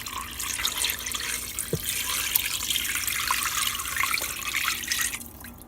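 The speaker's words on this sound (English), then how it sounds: "So let's take our 4 cups of water" Water pours steadily into a pressure cooker holding soup ingredients for chicken noodle soup, a close, continuous splashing stream that trails off at the end.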